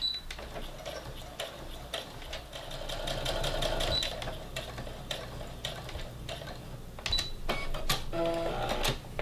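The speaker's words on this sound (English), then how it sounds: "Make sure you backstitch this time." A sewing machine runs at close range, stitching and backstitching a seam on a fabric face mask with a rapid, even mechanical whir and ticking bursts. A few short pauses break the run.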